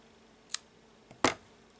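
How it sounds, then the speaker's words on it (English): Scissors snip through blue crochet yarn in two short, quiet cuts, a light click followed by a slightly stronger snip, in an otherwise quiet room. "And now I will also cut the blue yarn"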